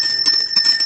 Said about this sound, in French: ça sont petits cloches